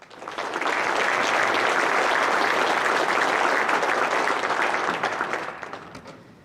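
Audience at a state transportation department design awards ceremony breaks into sustained applause that swells quickly, holds steady for several seconds, then tapers off.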